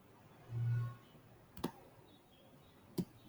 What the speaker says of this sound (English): Let me click on the bars.